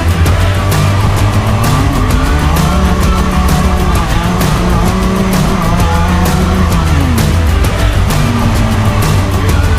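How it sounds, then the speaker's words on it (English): A race car on cold slick tyres spins its wheels and slides during pre-season testing at Forest Edge, the engine roaring loud and close with rising and falling revs and continuous tyre squeal throughout. "You'll see me here wheel spinning and sliding all over the place just to try and get some heat in these slicks"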